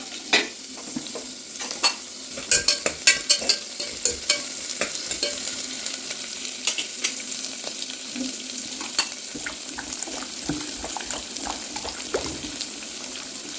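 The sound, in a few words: sautéing brinjal, onion, garlic and tomato in oil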